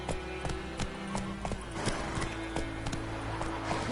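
Roach, the horse in The Witcher 3 video game, gallops in a quick, regular clip-clop of hooves over a low steady background tone.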